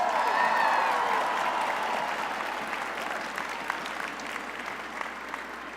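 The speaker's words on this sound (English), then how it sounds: "Let's give Charles another big round of applause." A spring 2018 commencement audience claps in a dense, sustained burst that is loudest at the start and slowly tapers off, filling the hall with no voice over it.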